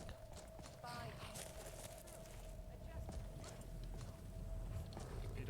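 Carriage horse hooves clip-clop steadily in Skyrim near Solitude, a moderate rhythmic clatter running under continuous game ambience and voices.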